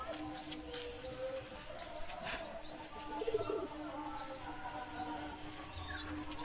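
Madras pigeons coo in a repeated, regular soft rhythm at low volume, with a few chirps mixed in over a steady background hum.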